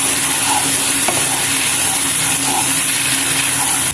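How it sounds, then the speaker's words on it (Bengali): Masala with yogurt sizzles and fries in a pan for prawn biryani, a steady loud hiss with faint stirring scrapes throughout and no talk. "ভালোভাবে কষিয়ে নিব।"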